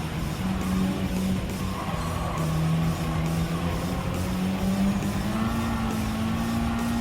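A Honda Civic Type R Limited Edition (FK8) in a Gran Turismo 7 time trial gives a steady engine hum whose pitch dips and then climbs, over constant road and tyre noise.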